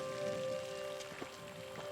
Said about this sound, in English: So the rain's setting in, which is not ideal.